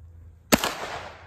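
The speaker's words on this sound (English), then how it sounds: "this is the first time shooting it" A single loud gunshot from an AR 9mm rifle fired outdoors for the first time, one sharp close crack followed by a short rolling echo that fades over about a second.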